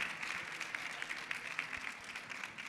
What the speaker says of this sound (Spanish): le vamos a dar un fuerte aplauso a nuestra compañera.